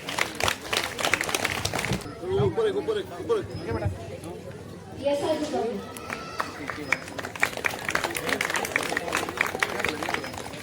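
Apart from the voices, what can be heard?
audience applause for a prize winner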